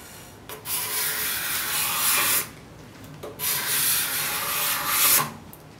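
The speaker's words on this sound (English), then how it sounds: "some finish prep on the rest of the parts with the sander" A power sander works over walnut hall table parts in two long passes, each a loud, steady rasping hiss that stops briefly between them.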